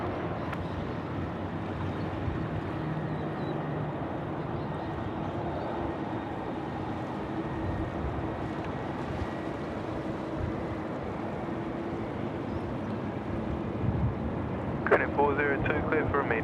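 A Korean airliner takes off from runway 34 left at Sydney Airport, a broad distant jet roar under wind buffeting, while people talk nearby and air traffic control chatter plays.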